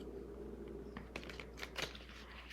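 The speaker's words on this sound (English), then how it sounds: "Give these a ruffle shuffle." A deck of cards being riffle-shuffled, a quick crisp flutter of shuffling snaps close by, quiet against a low background hum.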